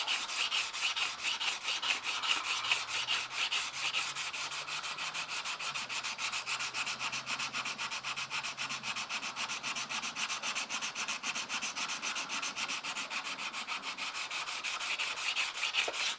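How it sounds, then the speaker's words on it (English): A knife blade is sanded by hand to clear etching from the steel, giving a steady, rhythmic rasping rub of quick back-and-forth strokes that runs close and even with no talking. "But we'll get this all sanded out"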